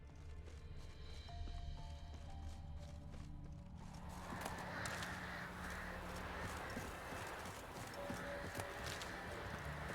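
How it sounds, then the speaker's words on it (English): Crows cawing in The Witcher 3 game, a few calls over a steady ambient bed with hoofbeats of a horse on a road, then a fuller rustling wash of outdoor noise. "Crows are spying."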